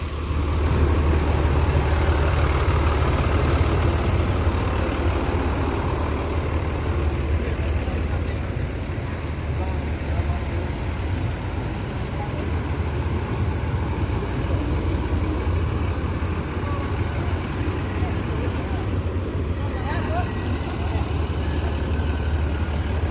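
Two new PT NPM buses idle with a steady, low diesel rumble that holds for a long stretch, while people talk faintly in the background.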